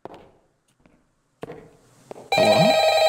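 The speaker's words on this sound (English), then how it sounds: "The phone is ringing." A telephone bell in the horror video game Employee Of The Month, set on a night shift in a supermarket, rings loud and steady near the end after sparse quiet sounds and a few faint knocks.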